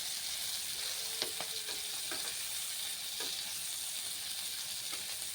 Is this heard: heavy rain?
no